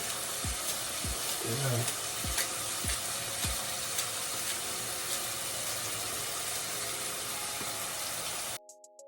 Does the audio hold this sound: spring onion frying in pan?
yes